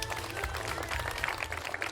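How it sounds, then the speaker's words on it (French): A small audience claps for the winning team at a live event, a steady patter of applause held at low volume with a crowd murmur under it. "Et on peut les applaudir très très fort de public et les encourager"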